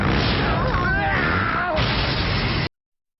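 A cannon blowing up in a Beast Wars cartoon, a loud, dense booming blast with crashing debris that fills about two and a half seconds before cutting off abruptly, with some voice-like sound mixed in.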